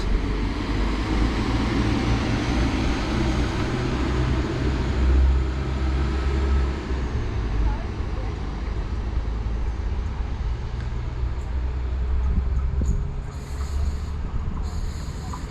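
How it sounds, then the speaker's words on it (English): A West Midlands Railway passenger train bound for Shrewsbury rumbles out of Shifnal station with a low, steady hum and engine drone that stays fairly even, with faint higher tones near the end. "going out now is the 1418 West Midlands Railway service to Shrewsbury"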